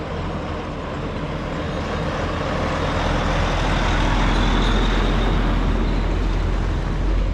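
A gigantic logging truck rolls by on a dusty forest road on Haida Gwaii, its heavy low engine rumble and tyre roar building steadily and staying loud and near throughout.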